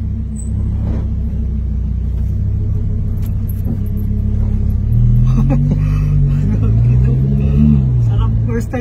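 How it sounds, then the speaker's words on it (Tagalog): A Lamborghini driven with its engine rumbling steadily up close, the note rising and falling as it revs, with excited voices talking over it throughout. "First time kong mag-drive ng Lamborghini."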